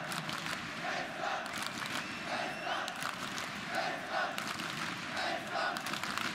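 A large esports arena crowd at a CS:GO semifinal cheers and roars in a steady, dense wash of voices, with bursts of shouting rising and falling throughout.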